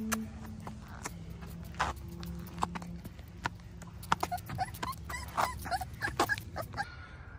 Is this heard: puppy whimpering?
yes